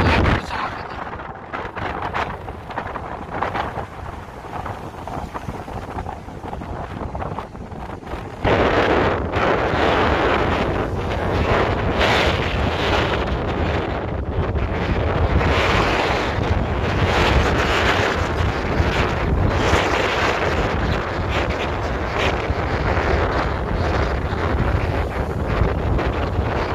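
Rough sea at Llandudno, with heavy waves surging and crashing amid strong gusting wind that buffets the microphone, a loud continuous roar that steps up sharply partway through and stays dense to the end.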